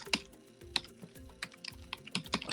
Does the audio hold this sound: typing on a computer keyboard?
yes